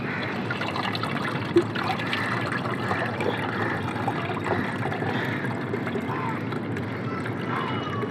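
Onion-peel water strained through a sieve, a soft steady trickle and dribble of liquid running for several seconds, close up, with faint talking in the background.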